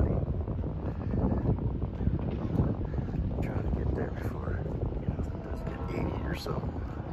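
Gusty wind outdoors on a warm, cloudy day along a levee in Santa Cruz, heard as a continuous loud rumble of buffeting on the microphone, with a voice speaking over it at times.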